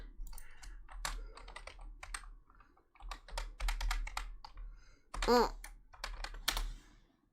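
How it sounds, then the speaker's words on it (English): Bursts of typing on a computer keyboard, rapid clustered key clicks separated by short pauses, close and fairly quiet, with light sounds between the bursts. "people can decode your password through the sound of your typing"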